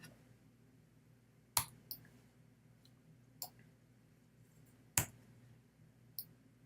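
Computer keyboard keys pressed for shortcut commands during photo retouching, a few isolated sharp clicks spaced irregularly over a quiet low hum.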